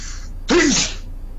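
A single loud, close human sneeze bursting out sharply and fading within half a second, with quiet room background before and after.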